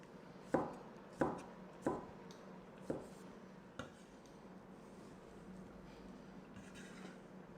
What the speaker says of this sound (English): So that's all of my tomatoes chopped roughly and stirred in.